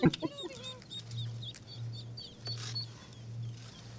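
Small ducks peep and chirp during a duck rescue, rising high calls that come close and clear at first and then continue quieter over a steady low hum.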